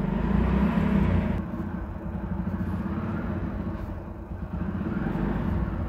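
A two-wheeler engine running on chassis dynamometer roll drums, a steady close rumbling drone that eases slightly after a louder first second and holds with small fluctuations, no talk.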